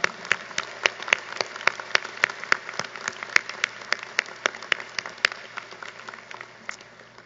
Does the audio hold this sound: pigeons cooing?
no